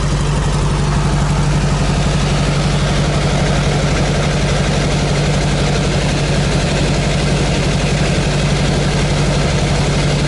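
Volkswagen Beetle engine idling during carburetor adjustment, a loud, steady low-pitched drone with even mechanical pulsing, heard close and unchanged for the whole stretch.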